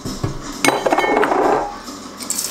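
Zucchini chocolate chip batter mixed in a bowl, a close burst of clinks and scraping from a utensil against the bowl that rises, churns for about a second, then fades.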